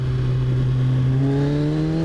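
A 2014 Kawasaki Z1000 motorcycle engine pulls hard under acceleration, a strong steady drone whose pitch climbs gradually as it revs, loud and close throughout, with no voices.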